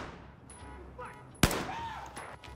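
Battlefield 4 gameplay carries a sharp, loud burst of gunfire in the middle, set against quieter ambient game noise and faint trailing shots.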